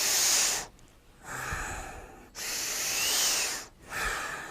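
A deep breath drawn in through a partially closed nostril during a breathing exercise, heard as long airy inhales broken by short pauses, close and fairly loud, with no talking.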